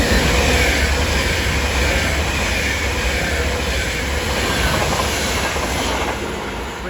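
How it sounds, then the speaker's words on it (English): A Class 390 Pendolino on the West Coast Main Line, running from Glasgow Central to London Euston, passes through Stafford station with a loud, steady roar and rail clatter that eases slightly toward the end. "coming through now is a Phantom West Coast service from Glasgow"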